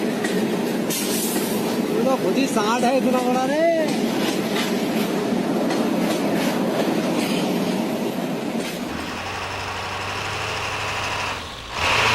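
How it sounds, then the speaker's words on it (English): A bus rolls along railway tracks with rhythmic clickety-clack and a droning engine, nearby and loud, then slows to an idling hum near the end. "A bus instantly transitioned from street driving to railway tracks."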